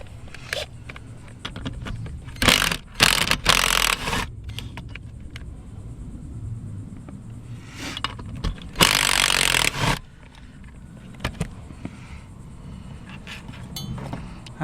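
Two T30 Torx bolts are removed from a Ford F-150 seat with a power tool, giving short bursts of whirring with clicks and clinks of metal in between, close by in a quiet cab.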